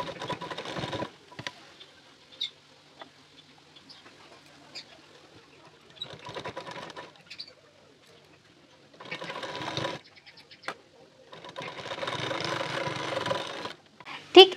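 A sewing machine stitching the fabric of a nighty runs in several short bursts of rapid, close mechanical chatter, separated by quiet pauses filled with light handling sounds.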